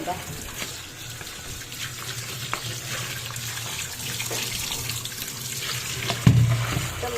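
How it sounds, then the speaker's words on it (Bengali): Food being washed under a running kitchen tap, a steady close splash of water with some handling noise, briefly louder near the end. "এটাকে ভালো করে ধুয়ে নেব"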